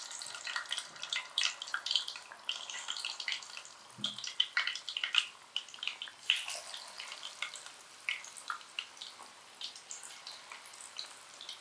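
Chicken lollipops crackle and spit in hot oil, a fine, irregular popping and bubbling that stays close but fairly soft throughout, with no voices.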